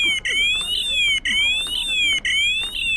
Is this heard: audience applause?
no